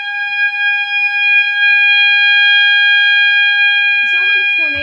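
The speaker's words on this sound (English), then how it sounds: "It sounds like a tornado siren." A mass notification warning siren sounds indoors with a steady, loud, piercing multi-tone wail like a tornado siren. It holds for several seconds before a voice begins speaking at the end.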